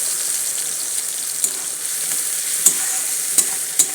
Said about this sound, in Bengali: এবার আমি দিলাম টমেটো।